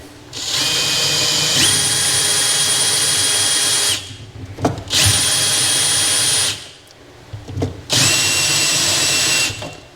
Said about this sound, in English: it's pretty easy to drill through the bed